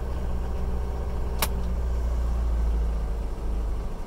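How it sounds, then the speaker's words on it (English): A Mercedes-Benz W115 240D diesel idling low in drive gives a steady, close rumble, with one brief sharp click partway through. "this is the idle in drive, nice and low"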